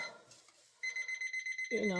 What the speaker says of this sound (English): So I'm looking for my little timer off to the side.